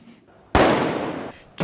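Paris Saint-Germain football fans celebrate a European title in the streets of Paris with fireworks: a sharp, loud burst crackles and fades over about a second, and another blast starts at the end.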